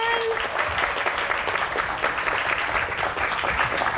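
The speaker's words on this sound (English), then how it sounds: "let's give them a big round of applause" A room full of people claps for volunteers at a communication workshop, steady close applause with a brief tonal whistle at the start and faint voices mixed in.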